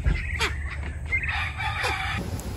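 A homestead chicken gives a couple of short crowing calls over low background rumble, fairly close and moderately loud, with no talking.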